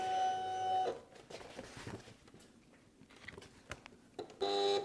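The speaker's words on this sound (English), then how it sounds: "Now I'm gonna bring this to the back of the vinyl cutter and cut it from here." A small desktop vinyl cutter runs on sticker material, with whirring motor tones at the start and end and quieter ticking, shuffling movements between, close and fairly faint.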